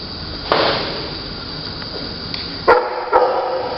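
Dogs bark at an animal shelter, sharp separate barks over a steady background din, with a few louder close ones near the end.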